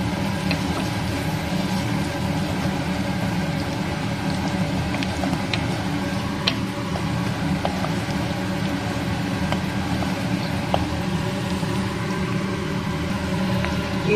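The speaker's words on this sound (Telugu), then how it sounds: "కానీ ఫ్యాన్ సౌండ్ అయితే ఎక్కువైంది." A kitchen chimney exhaust fan runs loudly over a stove while cucumber curry cooks, a constant low whirring drone throughout, with a few faint clicks over it.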